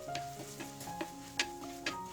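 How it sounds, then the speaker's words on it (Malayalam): Coriander powder gets stirred in a hot pan for a Kerala kingfish curry, faint soft scraping and a light sizzle with a few sharp spoon taps against the pan, heard close and quiet. "നന്നായി ഇളക്കി കൊടുക്കുക."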